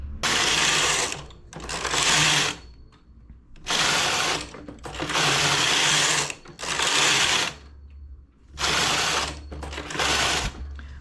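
A knitting machine carriage is pushed back and forth across the needle bed while making a half-season coat, giving five loud mechanical whirring passes, each lasting about a second, separated by short pauses.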